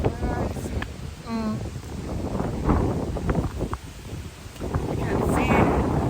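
Gusty wind buffets the microphone outdoors by a lake in Seattle, rising and falling in rough bursts with faint rustling and a brief voice in the background.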